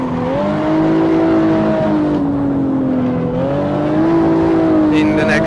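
Rear-wheel-drive car engine held at full throttle through a drift, a loud sustained roar with the pitch rising and dipping through the corner and faint tire squeal near the end.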